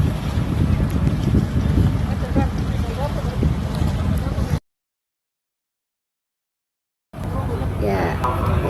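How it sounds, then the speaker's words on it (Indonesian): Wooden passenger boat travelling toward Semau Island in East Nusa Tenggara, with a steady low engine drone, wind buffeting the microphone, and a person talking over it; the sound cuts out briefly midway before resuming. "ini kapal kayu yang bergerak dari arah ini tadi, kapal kayu ya, menuju Pulau Semau"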